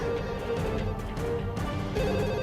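A telephone rings continuously, its tones blended into a dense, steady backdrop of music.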